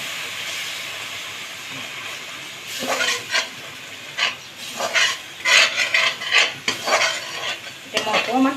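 Ginger-garlic-tomato paste sizzles in a pan as spiced water is poured in, a hissing fry broken by repeated scraping stirs of a spoon, close and fairly loud, with no talking.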